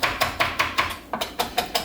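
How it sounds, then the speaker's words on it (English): A knife finely chops shadow benny (culantro) on a board in quick, steady, evenly spaced strokes, about ten close, crisp taps with a brief pause midway. "I'm gonna finely chop the shadow benny"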